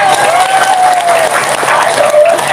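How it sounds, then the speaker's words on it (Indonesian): Loud, steady applause from a crowd at a maulid religious celebration, dense clapping filling the whole stretch with a sustained tone running beneath it. "balikan deui tepuk tangan semuanya"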